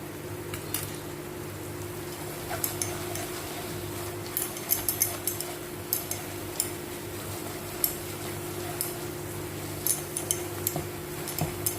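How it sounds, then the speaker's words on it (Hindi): Bottle gourd barfi mixture being stirred continuously in a pan, brisk, repeated spoon clicks and scrapes over a low, constant hum, close by with no speech. "लगातार चलाते रहेंगे इसको।"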